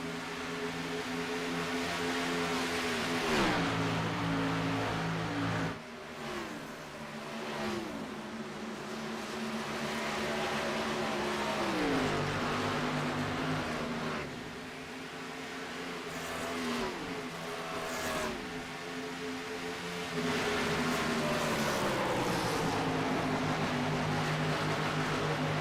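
Race cars at Chicagoland in a racing video game, engines droning continuously with repeated gear shifts and rising, falling pitch as cars cycle through, loud and steady throughout.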